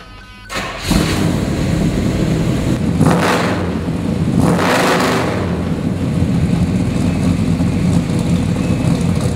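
A 1969 Chevrolet Chevelle SS 396 V8 cranks and fires up with a roar, then settles into a deep, loud, rumbling idle with a couple of throaty blips of the throttle.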